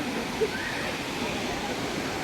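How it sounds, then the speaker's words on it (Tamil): A waterfall pours over rocks at a popular outdoor spot, giving a steady, even rush of water that fills the whole clip with no breaks. "நம்ம இந்த வாட்டர் ஃபால்ஸ்க்கு வந்திருக்கிறோம்"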